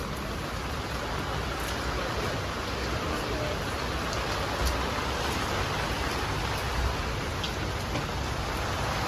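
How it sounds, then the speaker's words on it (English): Heavy, pouring rain falls outdoors in a dense, steady downpour, a loud continuous wash of drops with no breaks and no voices. "And it's pouring rain."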